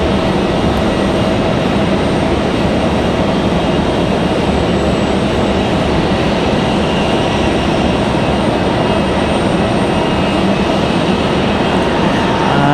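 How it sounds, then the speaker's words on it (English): Endeavor Air Delta CRJ regional jet, flight 5028 from JFK New York, arriving at Raleigh-Durham airport: a steady, loud broadband engine roar that holds evenly throughout with no talk. "So this is Endeavor 5028. This is coming in from JFK, New York."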